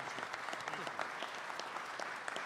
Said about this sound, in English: please give us a nice round of applause for the 48th Governor of the Commonwealth of Pennsylvania,